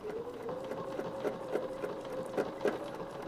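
A sewing machine stitches a quilted heirloom feather design, giving a close, steady mechanical whir with evenly spaced stitch pulses throughout.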